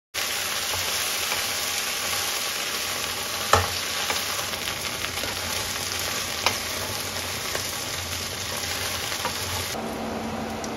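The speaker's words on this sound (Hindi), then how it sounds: "साथ साथ भिंडी भी कुक होती जाएगी" Cut okra fries in ghee in a pan with a loud, steady sizzle throughout, broken by a couple of sharp clinks of a utensil stirring, with no one talking.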